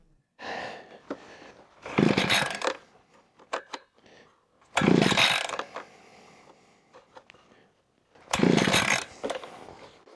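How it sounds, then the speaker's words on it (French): Gas-powered earth auger engine pull-started in three loud, roaring bursts, each lasting a second or two and separated by quieter gaps with faint clatter. "assurons-nous que je vais vraiment pouvoir utiliser la tarière à cet endroit précis. Et on va l'allumer."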